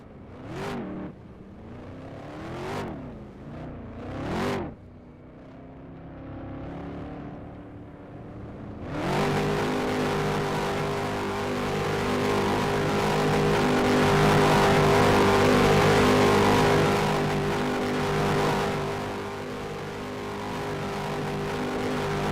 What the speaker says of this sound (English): Jack Rowe still doing burnouts there.